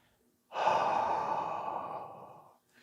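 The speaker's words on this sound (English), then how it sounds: "you're going to use a nice open, relaxed mouth here, and you're going to get as much air out as you can without forcing. Long, gentle exhale." A long, gentle breath pushed out through an open, relaxed mouth, a steady airy exhale lasting about two seconds that starts abruptly and fades at the end, close and alone with no talk.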